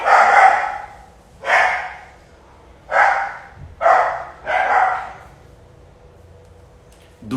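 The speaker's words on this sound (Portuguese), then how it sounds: "Aí tem um cachorro latindo ali." A dog barks five times in a loose, uneven rhythm, each bark loud and fairly close, with quiet gaps between them and no talk over it.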